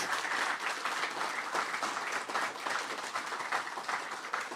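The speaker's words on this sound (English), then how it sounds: "Round of applause for the development team." An audience at a fan event for an online game applauds for its development team, steady dense clapping from a sizable crowd that holds at an even level throughout, with no talking over it.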